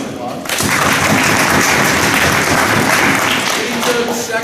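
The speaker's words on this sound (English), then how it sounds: "give yourself a round of applause" Applause from an audience at a high school wrestling team banquet, a steady wash of many hands clapping that swells after a quiet start and carries on loud and close, with some voices mixed in.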